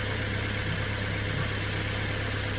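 Toyota 1TR-FE gasoline engine runs after a fuel pump replacement, a steady close idle with a continuous low hum and vibration, even and unbroken, with no talk heard.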